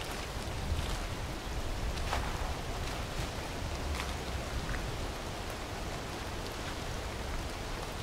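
Steady rain falls in a video game during a SOG mission, a constant dense hiss that fills the whole stretch evenly with faint scattered droplet ticks and no talking.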